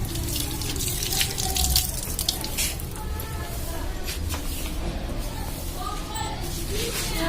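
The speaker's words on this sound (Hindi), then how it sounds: "हम इसको खंगाल लेंगे।" Water runs steadily from a tap into a kitchen sink while something is rinsed, splashing and trickling at close range without a break.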